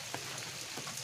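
Heavy morning rain falls steadily, a dense, close hiss of drops on surfaces that continues unbroken throughout, with no voices.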